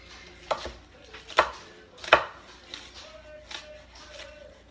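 Green onions are chopped on a board with a knife, several distinct close thuds in an uneven rhythm, the strongest in the first half, fading to lighter cuts.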